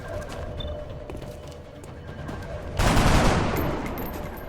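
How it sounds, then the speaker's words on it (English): Gunfire during a battle in the video game XCOM: Enemy Within, a sudden loud burst of shots erupting midway after quieter ambient game sound, then slowly fading. "Incoming fire."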